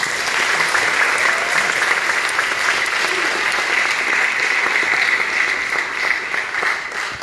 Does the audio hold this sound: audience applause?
yes